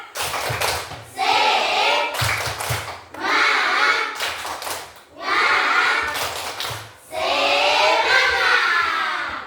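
A sixth-grade primary school class performs a rhythmic spirit clap in bursts, sharp patterned clapping alternating with children chanting together, several rounds in a row, close and lively.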